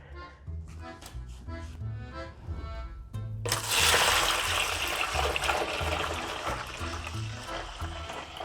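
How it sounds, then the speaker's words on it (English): Milk mixed with yogurt bacteria is poured into another container, a steady liquid splash and trickle that starts abruptly and continues loudly, with faint low clinks and handling noise before it. "now that we have added our yogurt bacteria into the milk, we have to pour this in another container."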